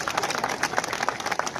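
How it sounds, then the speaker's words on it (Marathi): Crowd clapping at an outdoor BJP election campaign rally for municipal council polls in Mhaswad, a brief, dense patter of many hands at steady, close loudness. "एकदा टाळ्या वाजवा."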